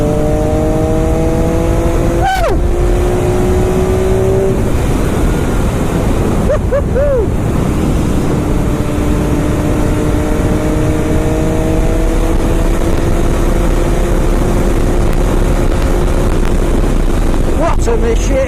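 An MV Agusta F3 motorcycle ridden on a cold winter road, loud rushing wind noise over the engine, whose pitch rises through the gears with brief shifts, heard from the rider's position, with a voice talking at times.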